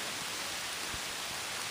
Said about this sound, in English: It's raining by mine.